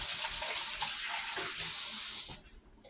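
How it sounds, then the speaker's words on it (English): Tap water gushes into a kitchen sink while hands are rinsed, a close, steady hiss with small splashing changes, cut off near the end to leave quiet dripping. "Let me rinse my hands off real quick."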